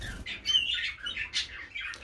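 Canaries chirping close by during breeding season, a quick series of bright tweets and short warbles in rapid succession, fairly quiet and with no voices.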